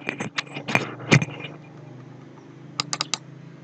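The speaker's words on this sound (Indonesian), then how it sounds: "Coba saya klik ini ya, mouse 2 kali." Sharp, close clicks of a computer mouse on a laptop or desktop setup, including a quick double-click. A scattered burst of taps comes first, then after a quiet stretch a tight cluster of clicks follows, with no speech.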